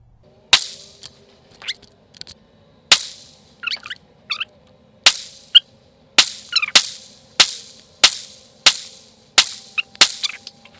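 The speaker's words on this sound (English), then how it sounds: "we're about to do a time lapse of Colton shooting" A .22 Long Rifle, Ruger or Savage, fired at a target outdoors: about fifteen sharp, loud cracks in an uneven rhythm, spaced wider at first then in quicker bursts, each with a brief ringing tail.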